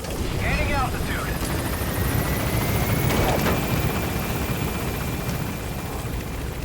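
The Pequod helicopter taking off in Metal Gear Solid V, a loud steady rotor and turbine roar with a rising whine, close and constant throughout, while a voice speaks briefly over it near the start.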